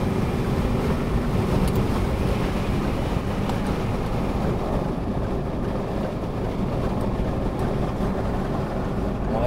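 Car engine accelerating while merging onto an expressway, a steady loud roar of engine and road and wind noise that holds constant and close throughout.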